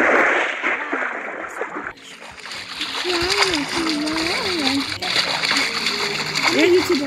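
Water splashing in a Roblox roleplay game, a burst of splatter and sloshing that continues under children's chatter, fairly loud and close.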